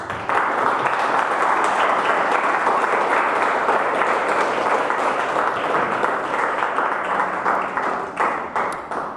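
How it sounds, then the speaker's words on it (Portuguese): A church congregation applauds loudly and steadily during a Portuguese-language service, a dense, sustained wash of clapping that continues nearly unchanged before thinning slightly at the end. "Você pode aplaudir a Jesus."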